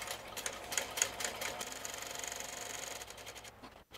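A sewing machine stitches a fabric cover for a traveler's notebook, its motor running in a steady buzzing run of rapid stitches, close and fairly loud, stopping abruptly near the end.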